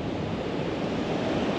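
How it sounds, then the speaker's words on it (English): Waves wash ashore on the Cape at sundown in a light southerly breeze, a steady, loud, close rush of surf mixed with wind noise and no talk. "As you can see, the waves here coming ashore."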